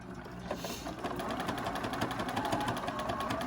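A sewing machine runs steadily, stitching a zip pouch with a fast, even mechanical rattle that keeps going from start to finish at close range.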